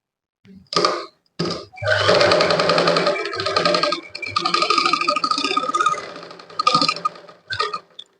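A sewing machine stitches fabric in short and long bursts of close, rapid mechanical whirring and ticking, separated by brief pauses.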